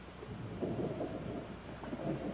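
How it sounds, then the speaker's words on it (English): Thunder in a storm scene from a TV drama, a low continuous rumble with rain-like texture, rolling steadily and fairly close, with no voices. "Come on, it's a storm outside."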